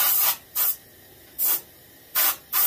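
An airbrush sprays paint onto a skin-mounted bluegill fish in a tinting method, giving five short, loud hissing bursts separated by brief pauses, heard alone and close.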